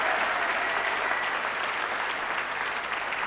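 A studio audience at a 1997 German game show applauds steadily, a dense, even clapping that holds at full strength throughout with no voices over it.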